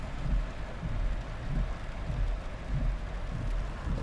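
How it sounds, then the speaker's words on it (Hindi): Heavy rain falls on a village crossroads in Depalpur, a steady dense hiss with low rumbling gusts, moderately loud and continuous with no voices. "फुल बारिश है।"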